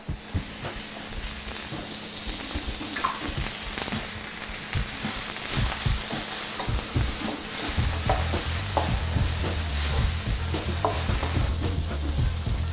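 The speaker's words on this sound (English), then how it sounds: "we're just going to saute these quickly" Shrimp for Chettinad shrimp sauté in hot oil in a pan, giving a steady, fairly loud sizzle and fry hiss that runs the whole time, with occasional stirring scrapes and clatter and no talking.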